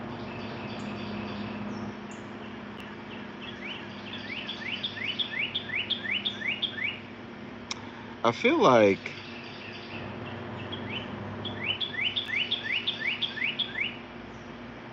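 Repeated bursts of quick, high descending chirps from a bird come in rhythmic series near a house, along with a louder trilling call in the middle, while someone talks steadily underneath.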